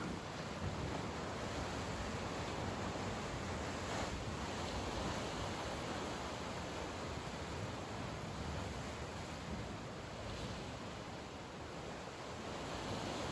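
Sea waves wash in a continuous, even roar of surf, steady and broad without distinct breaks, heard alone with no voices.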